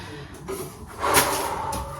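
A kitchen drawer slides open and shut while cookies are put away, a short scraping rumble followed by a firmer knock, close by and fairly loud.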